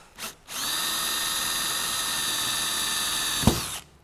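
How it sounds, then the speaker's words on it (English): A power drill bores a hole through 3/4 inch square metal tube during an aircraft build, a steady high whine lasting about three seconds with a sharp bite near the end before it winds down. "and then we're getting a hole drilled in there"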